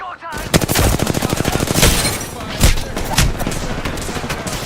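Sustained automatic gunfire in an Apex Legends or PUBG match, rapid loud shots in a dense rhythmic burst that continues for several seconds, with no voices over it.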